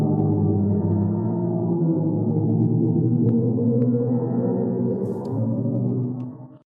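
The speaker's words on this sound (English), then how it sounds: "That is the sound of a black hole in a distant galaxy." Sonified black hole in a distant galaxy: a deep, droning, throbbing hum that holds steady and loud for several seconds, then fades out abruptly at the end, with no voices.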